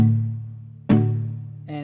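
Acoustic guitar played with a palm-muted slap strum: a sustained chord rings, then a sharp percussive slap hits it, followed by a softer muted strum at the end, close and solo.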